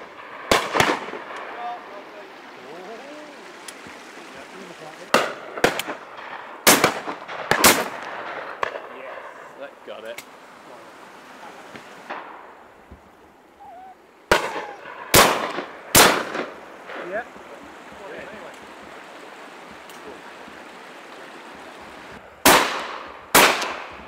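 Shotguns fire at game birds on a driven shoot at the Chargot Estate, with sharp, loud reports coming singly and in quick doubles and triplets, separated by quieter stretches of outdoor ambience and occasional distant voices.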